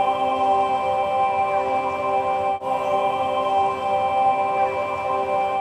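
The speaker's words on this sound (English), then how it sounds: "4 voices singing in harmony," Four voices sustain a wide C-and-G fifth in churchy harmony, a steady chord held for several seconds with rich stacked overtones and a brief dip midway.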